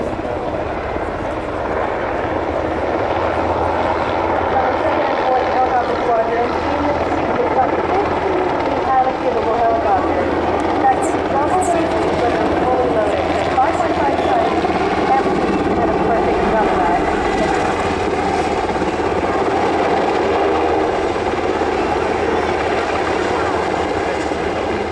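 A Sikorsky UH-60 Black Hawk helicopter performs a display at an airshow, its loud, steady rotor and turbine roar continuous throughout with someone commentator talking over it.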